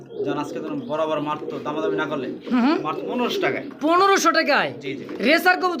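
Pigeons coo close by, in repeated throaty calls that overlap and rise and fall over several seconds, amid a pigeon sale of local and foreign breeds.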